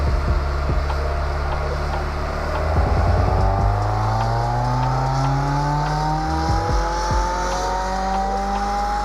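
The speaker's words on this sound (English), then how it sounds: "I hear the exhaust, everything looks good, it sounds good, she sounds healthy" An exhaust on a car being tuned at Snail Performance in Arizona revs repeatedly, engine pitch climbing and falling in loud sweeping pulls over a steady idle drone.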